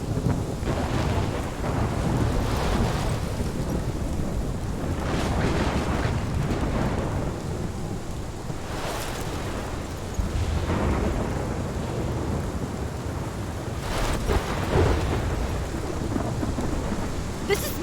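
A heavy thunderstorm in Life is Strange, with steady loud rain and repeated thunder rumbles and cracks rolling through continuously, no voices over it.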